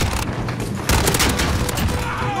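Fennec (Vector) submachine gun firing in Call of Duty: Modern Warfare multiplayer, a loud, dense burst of rapid shots with heavy booming impacts running through the whole moment, no speech over it.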